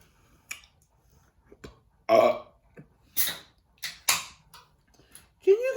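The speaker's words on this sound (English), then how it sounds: "Can you guys burp with cinnamon red hot in your mouth at the same time? I just did." Burping with a cinnamon red hot candy in the mouth: several loud, close burps spaced apart, separated by small clicks and mouth noises, with no speech over them.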